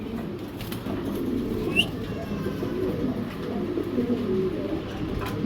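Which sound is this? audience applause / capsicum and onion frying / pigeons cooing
pigeons cooing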